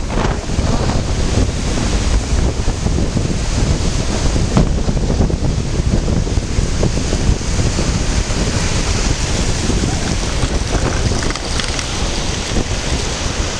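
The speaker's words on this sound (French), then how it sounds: "Il y a vraiment beaucoup de vent, beaucoup de vagues." Loud, constant wind roars against the microphone on the Portuguese coast while ocean waves crash and surge underneath, a dense, unbroken wall of noise.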